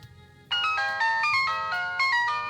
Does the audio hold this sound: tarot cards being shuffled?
no